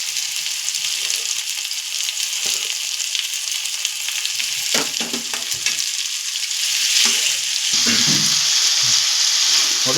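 Ginger garlic paste fries in hot oil in a pan for a river fish sambar, giving a steady loud sizzle with scraping stirs through it and a rise toward the end.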